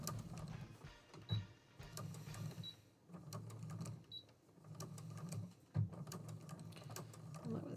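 Sewing machine stitching back over threads on a t-shirt table runner quilt, a steady mechanical whirring with rhythmic needle clatter and a few short pauses, running close under quiet talk.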